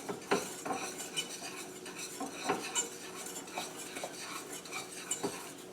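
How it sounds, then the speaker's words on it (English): Spoon scraping and clinking around a pan as butter and brown sugar melt together for a banana sauce, irregular close metallic stirring taps with a faint soft sizzle, no talking. "You start melting the butter for the bananas, and you want to stir this constantly"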